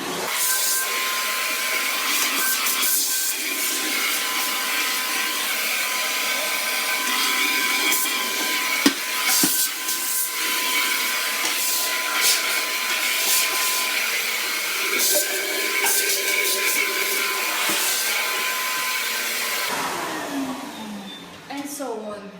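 A vacuum cleaner drones continuously while cleaning a kitchen, holding a steady broadband whir before tapering off near the end.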